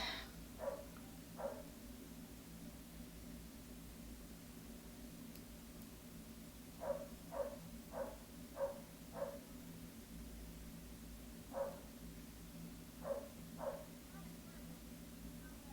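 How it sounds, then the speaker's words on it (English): A neighbor's dog barks from outside, heard faintly indoors through the house: a few short yips near the start, then a run of evenly spaced barks, with more later over a steady low hum. "It sounds like my neighbor's dog is barking in my whole house right now."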